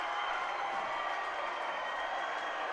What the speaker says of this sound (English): the crowd erupts in approval